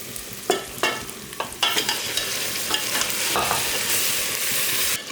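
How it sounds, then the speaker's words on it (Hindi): Beef frying with ginger garlic paste in a pot for haleem, a loud continuous sizzle broken by several sharp spoon scrapes and clatters as it is stirred, no talking. "1 मिनट फ्राई करने के बाद अब इसमें डालेंगे हम गोश्त।"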